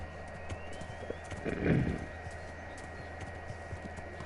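Horse hooves clip-clopping in the Kingdom Come Deliverance video game, faint steady footfalls with a brief louder swell midway, low in level and heard without talk.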